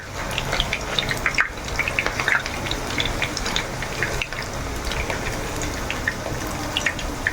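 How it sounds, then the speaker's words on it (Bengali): Chicken mince kebab fries in a pan with a dense, steady sizzle and crackle of popping oil, close and continuous without pause. "আমরা আবার এই সাইডটা ভাজ ভাজা হতে দেব"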